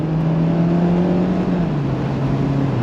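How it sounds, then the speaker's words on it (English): Four-cylinder i-activ engine of a Mazda MX-5 Miata RF with automatic gearbox, heard from inside with the top down, droning steadily as it accelerates, pitch slowly dipping and rising under constant road and wind noise. "So look at the 4-cylinder i-activ engine."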